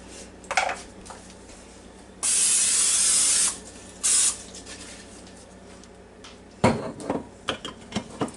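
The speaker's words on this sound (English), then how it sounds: "I'm going to spray it with just a little bit of Pam." Pam cooking spray hisses into an 8x8, 2-quart casserole dish, first as a steady burst of about a second and a half, then as a shorter second spritz, followed by clatter from the dish being handled.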